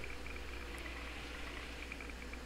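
Steady cabin fan noise inside an SRV surface rover in Elite Dangerous, a continuous broadband whir with a faint high whine, even and unchanging throughout.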